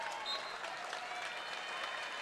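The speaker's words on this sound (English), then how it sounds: "Reed Miller gets a nice ovation from the crowd as he picks up his 5th foul" A crowd at a high school basketball sectional final gives a sustained ovation as a player fouls out, dense even applause from a packed gym.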